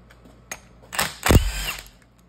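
A power tool spins out tail housing bolts on an NV5600 transmission, giving a short close whir that rises into a brief loud burst and then winds down.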